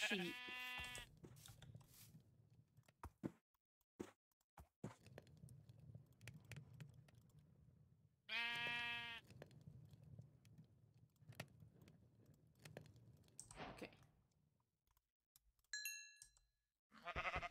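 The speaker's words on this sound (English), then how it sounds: "Naked sheep." Sheep in Minecraft 1.17 Caves & Cliffs bleat twice, a few seconds apart, each a short wavering cry over quiet footsteps and low rumbling game ambience, with small clicks near the end.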